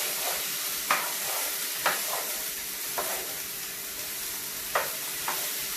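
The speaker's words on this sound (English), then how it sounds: "So you're just letting that saute for a minute or so before you add anything else" Chicken sautés in hot oil for a sweet and sour dish, giving a soft continuous sizzle broken by several sharp scrapes and taps as a utensil stirs the pan at irregular intervals.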